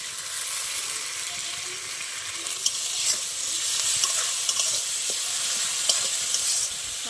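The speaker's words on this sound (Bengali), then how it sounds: "আবার একটু ভালো করে মশলার সাথে টমেটোটা আমি ভেজে নেবো" Tomato fried with spices and ground chilli paste in a pan, a steady hiss of sizzling oil with a few light scrapes and taps from a stirring spoon.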